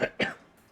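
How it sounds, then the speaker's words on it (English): Two sharp, close coughs in quick succession, the second one stronger, followed by quiet. "I apologize for all the fucking coughing."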